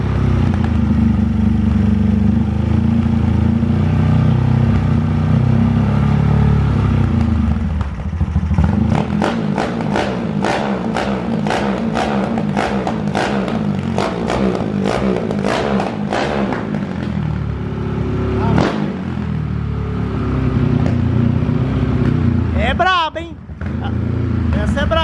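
Motorcycles revving and accelerating during an informal street race, engines droning loudly throughout with sharp rising rev bursts in the middle stretch; voices talk over the engine noise.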